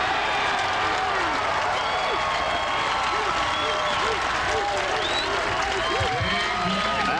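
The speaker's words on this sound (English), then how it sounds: "part of the crowd yelling roof, roof, roof" A packed crowd at the 1999 AVP Manhattan beach volleyball final roars and yells after a block, sustained, dense cheering and applause close around, with shouting voices and chanting rising through it.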